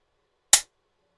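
A single sharp metallic click from a CZ 75 SP-01 pistol trigger releasing during a trigger replacement, short and close, alone in silence.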